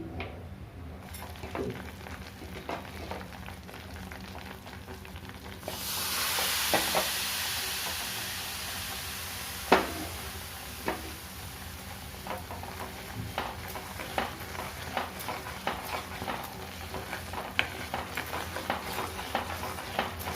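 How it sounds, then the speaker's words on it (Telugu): Hot oil is poured into a besan mixture for Mysore pak and stirred, a quiet scraping that jumps into a bright hiss as the oil hits, then settles into repeated spoon taps and scrapes. "ఇప్పుడు వేడి నూనె ఇందులో కొంచెం పోసుకుంటూ ఉండాలి."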